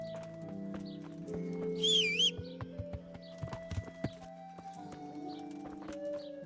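Horse hooves clip-clopping with a brief whinny in the medieval game Kingdom Come: Deliverance, the neigh rising clearly near the start over a steady ambient drone and faint bird chirps.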